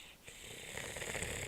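A person mimics snoring with one short, rough, rattling inhale lasting about a second, close and fairly quiet.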